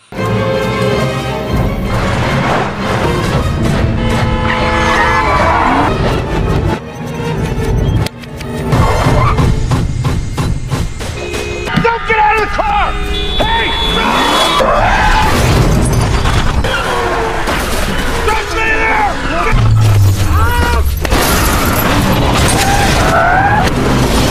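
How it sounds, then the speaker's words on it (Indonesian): Cars collide in a tunnel during a film chase scene: sustained tire skids, engine roars, booming impacts and metal crashes layered with a dramatic score, loud and continuous throughout. "Mobil-mobil pun mulai saling bertabrakan"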